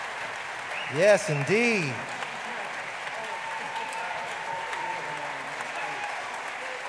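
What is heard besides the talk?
audience applause for a symphonic jazz orchestra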